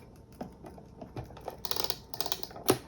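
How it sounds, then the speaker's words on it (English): Double-sided tape being pulled and pressed onto a paper card topper, a run of light ticking, tapping and crinkly crackles, close and fairly quiet, with a sharper snap near the end. "I'm going to just put a little double-sided tape on"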